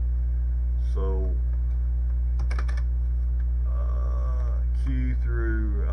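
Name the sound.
typing on keyboard of retro Tandy laptop computer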